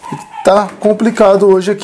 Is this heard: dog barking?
yes